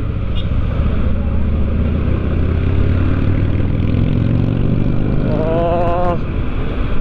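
A motorcycle engine roars loudly nearby on a highway, revving up with a rising pitch toward the end as it passes, over steady traffic rumble.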